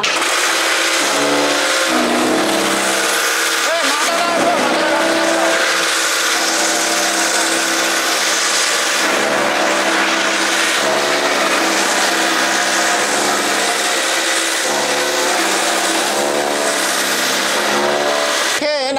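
A digital chaff cutter machine chopping straw and grass runs loud and steady for the whole stretch, a dense whirring, grinding roar with no pauses.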